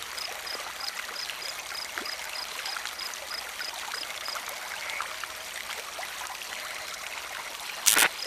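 Water pours and trickles steadily as a container is filled, a continuous close splashing stream with a brief louder burst near the end.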